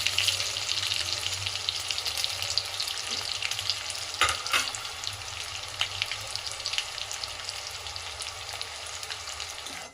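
Garlic and chopped onion frying in a pan for palak paneer give a steady, close hiss of sizzling with light stirring scrapes and one brief louder crackle, with no voices.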